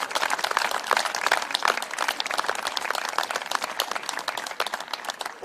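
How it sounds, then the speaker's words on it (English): A crowd applauding steadily at a women's regional cricket final, dense clapping from many hands sustained throughout with no pauses. "So a big round of applause for all the girls and the women who played here today"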